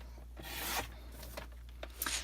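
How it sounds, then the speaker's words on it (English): A paper trimmer blade slices through card stock, with a few faint scraping strokes and quick rasps, quiet and close, and no talking. "So I'm going to open it up and put it in my trimmer at 4 inches."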